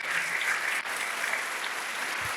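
A church worship audience claps in a dense, steady burst of applause that carries through the whole moment.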